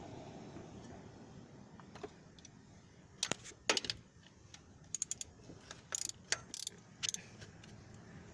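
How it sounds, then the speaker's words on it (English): A ratchet clicks while releasing a belt tensioner during a Toyota 3S-FE engine head gasket repair, faint steady mechanical ticking with scattered louder clicks near the middle and end, no talking. "once it stops clicking, then it should be loose enough for you to just do with your hands"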